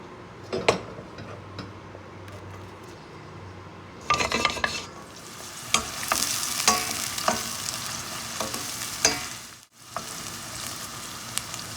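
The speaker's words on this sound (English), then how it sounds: "I'm stir frying it to become golden color" Onion and garlic sizzle and fry in a pan, with a utensil stirring and scraping against the metal in intermittent bursts.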